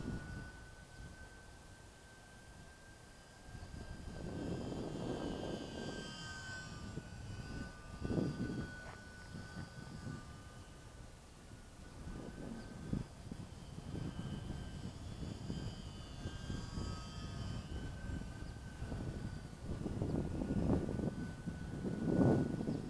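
A small UMX Waco radio-controlled biplane flies over a park, its thin electric motor whine rising and fading as it passes near and away, with light wind noise and no talking.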